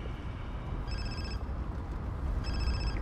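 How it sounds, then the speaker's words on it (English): A car phone ringing inside a vehicle, two separate electronic ring bursts over a low hum, fairly quiet and with no talk. "Your car's ringing."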